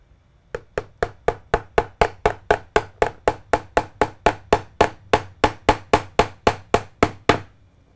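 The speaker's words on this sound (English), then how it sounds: "Nice old ball peen hammer." Old ball peen hammer repaired with baling wire striking metal in a workshop: about two dozen evenly spaced, sharp ringing blows in a steady rhythm, loud and close, with no talking.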